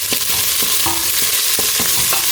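Onions sizzle steadily in hot oil in a pan, a constant bright hiss broken by several soft scraping stirs, close and loud, with no voices.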